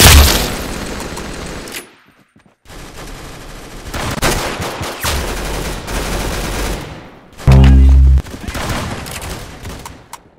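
Rapid gunfire in the shooter game Arsenal, several loud sustained bursts broken by brief silences, with one heavy booming shot near the end; no talking.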